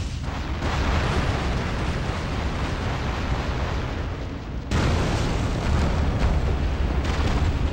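Continuous heavy rumbling blasts from the video game Spartan: Total Warrior on PS2, loud and dense, with a brief dip before the roaring explosions resume.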